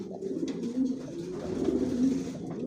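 Racing pigeons coo in a loft, low rolling coos overlapping in a steady murmur with faint rustling, close and moderately loud.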